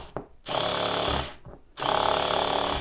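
A cordless screwdriver in its first setting drives a self-tapping screw in two loud whirring bursts separated by a brief pause, the motor buzzing close and steady under load.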